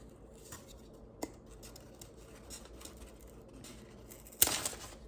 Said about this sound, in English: I'm gonna try and cut off the ends of the popsicle stick.